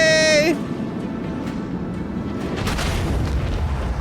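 In the Warhammer 40K Rogue Trader video game, a torpedo explosion gives a deep rumbling boom after a short tonal whine, followed by a sustained roaring burst that swells near the end.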